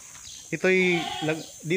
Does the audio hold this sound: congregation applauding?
no